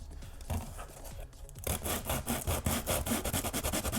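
Coarse 60-grit sandpaper scrubbed back and forth across a costume vambrace piece, close rhythmic rasping strokes that grow louder and faster in the second half.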